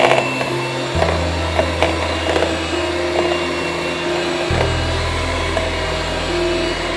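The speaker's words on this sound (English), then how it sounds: "You reduce the level of your mixer." Electric mixer whirring steadily while beating butter icing with icing sugar, a loud continuous motor hum that shifts pitch twice as the speed is changed, with faint clinks from the bowl.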